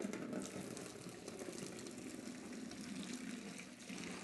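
Steady rushing water pours continuously, a hot tap running into a cooler and filling it, with no voices over the sound.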